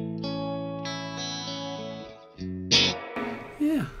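Guitar notes and chords ring through an amp with a hall reverb effect, sustained tones giving way to a bright strummed burst and a sliding note, with a brief voice near the end.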